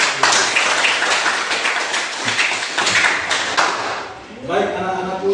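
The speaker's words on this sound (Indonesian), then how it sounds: "Tepuk tangan sekali." A classroom audience of students gives a single burst of clapping, sharp dense claps filling the room, with a teacher's voice speaking around it.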